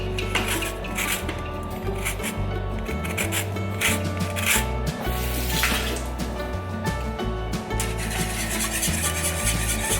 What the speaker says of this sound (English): And then we're gonna add the zest of 1 lemon.